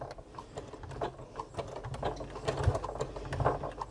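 A sewing machine stitches binding on a fabric tool wallet, running in short rapid mechanical bursts with a brief reverse at the start, close and fairly quiet.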